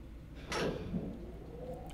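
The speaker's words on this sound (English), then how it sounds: "And the door slid shut." An elevator door in the Danganronpa: Trigger Happy Havoc video game slides shut with a single brief whoosh and a soft thud, standing alone over a low steady hum.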